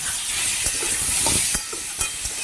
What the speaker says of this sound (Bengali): এবার কেটে রাখা আম দিয়ে দিচ্ছি, স্বাদ মতো বা পরিমাণ মতো নুনটা দিয়ে দেব। ভালো করে একটু ভাজবো।